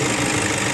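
An older Toyota Innova engine that had overheated and blows white smoke idles close up with a dense, steady mechanical clatter and hum, with no talking.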